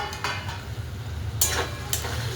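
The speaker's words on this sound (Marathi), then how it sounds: "आता आपण झाकण खोलून पाहूया" Lid lifted off a pot of cooking sabudana khichdi: a couple of light metallic clinks and scrapes stand out over a faint, steady background hum and soft bubbling.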